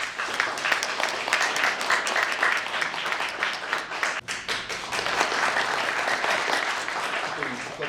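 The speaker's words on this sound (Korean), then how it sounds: "천부경 봉송해 주신 우리 민병철 회장을 큰 박수로 여러분 맞이해 주시기 바랍니다." An audience at a Korean book launch celebration claps in sustained, dense applause that stays steady throughout, with a brief dip partway and a voice faintly under it.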